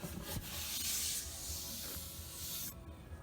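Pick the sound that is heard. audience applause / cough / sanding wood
sanding wood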